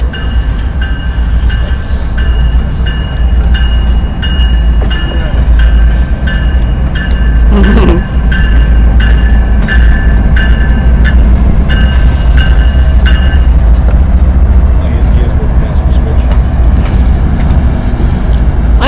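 A locomotive moving slowly on rails at Belen, a heavy, continuous rumble and grinding close by, with squealing metallic wheel tones and wind buffeting the microphone throughout.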